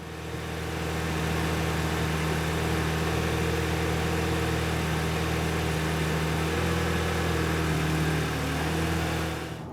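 A Volkswagen MK6 GTI engine running steadily in gear, a loud close hum with a low drone and a constant mechanical tone, holding even for about ten seconds without talk.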